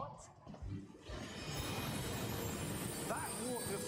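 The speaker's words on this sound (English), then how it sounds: "That waterfall washes away all enchantments." Waterfall rushing in a Harry Potter video game, a dense steady wash of falling water filling the scene throughout, fairly loud and constant, with faint voice-like sounds near the end.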